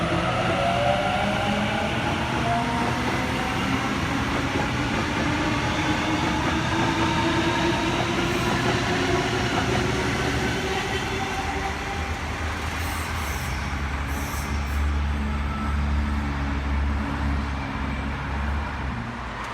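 A Sydney suburban train departs the platform, a steady rolling rumble of wheels and motors that stays loud and continuous throughout, with a low hum rising near the end and no talk.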